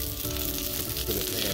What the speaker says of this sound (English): You hear that nice sizzle, that's what we're looking for.